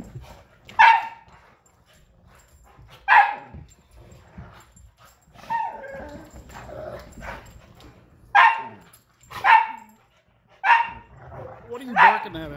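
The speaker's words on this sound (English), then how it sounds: "What are you barking at, Allison?" A dog gives about half a dozen sharp, close barks spaced a second or two apart, with a quieter whimpering yip in between and soft background noise between the barks.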